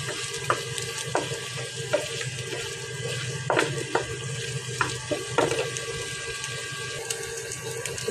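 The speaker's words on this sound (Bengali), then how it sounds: "ঝুরি ঝুরি করে ভেজে নেব। ঠিক এভাবে ভেজে নেব।" Scrambled egg fries in a pan with a steady soft sizzle, broken by occasional sharp scrapes and clicks of stirring, close by and with no talking.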